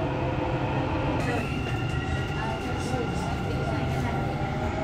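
A Dubai Metro train runs along the track, heard from inside as a steady, loud rumble with a continuous whine and rattle throughout, and faint muffled sounds over the top.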